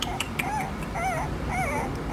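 A litter of nine newborn puppies with whorls of fur on their backs whimpers and yips in high, wavering cries, several overlapping whines repeating close by over a steady low background murmur.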